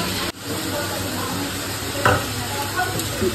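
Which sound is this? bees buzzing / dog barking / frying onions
frying onions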